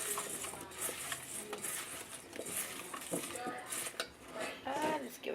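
Seasoned ingredients get mixed with oil in a bowl, a soft run of clinks and scrapes of utensil against dish, with background talk.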